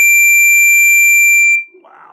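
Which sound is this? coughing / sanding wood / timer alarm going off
timer alarm going off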